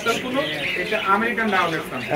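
Caged birds chirping and squawking at a breeder's aviary, a busy mix of calls heard close under men's conversation that runs through the whole moment.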